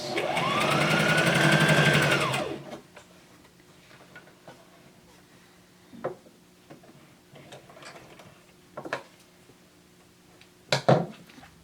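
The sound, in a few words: sewing machine back stitching cloth face mask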